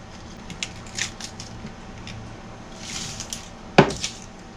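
An onion having its outer layers peeled off by hand, soft rustling and crinkling papery skin close up, ending in one sharp crack-like tear followed by a smaller snap.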